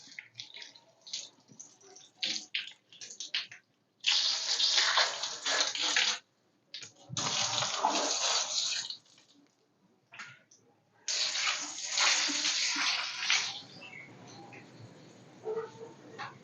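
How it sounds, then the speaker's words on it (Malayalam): Water splashing and running in bursts while hair is rinsed with herbal thaali instead of shampoo, three long loud pours separated by quieter dripping and handling, with no talk. "മറ്റേ ഷാമ്പു അല്ല താളി താളി വെച്ചിട്ട് കഴുകി നോക്കാം"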